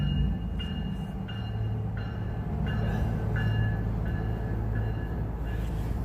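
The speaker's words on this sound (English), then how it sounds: "Here comes the train again." A train rolls past outdoors by a creek with a steady low rumble and rhythmic squealing clicks from the wheels on the rails, moderately loud and continuous.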